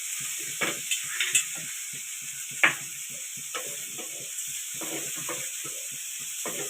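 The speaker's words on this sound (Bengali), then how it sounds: "চিংড়ি মাছ ভাজা হচ্ছে।" Prawns fry in a pan with a steady, close sizzle, broken by scattered pops and crackles and a few stirring scrapes. No voices are heard.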